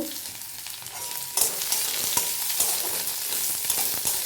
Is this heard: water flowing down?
no